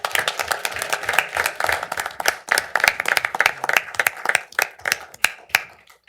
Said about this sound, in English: just another round of applause for them.